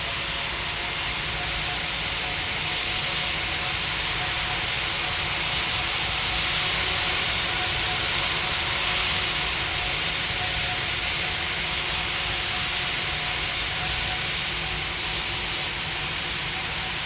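Jet airliner engines roar through takeoff in the PTFS flight simulator game, a loud, steady broadband rumble and whine holding for the whole stretch without a break.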